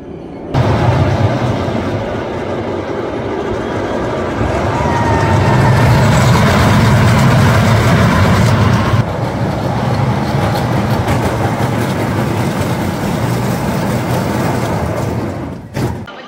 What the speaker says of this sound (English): This is a fairly standard family coaster that weaves around the trees.